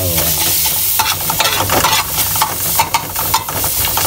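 Garlic fries in a pan over medium heat with a loud, steady sizzle, broken up by scraping stirs and clatter for about four seconds.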